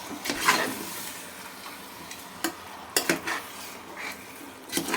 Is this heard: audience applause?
no